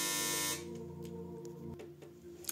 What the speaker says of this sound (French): Sorry pour ce petit bip qui m'a fait bien biper dans les oreilles.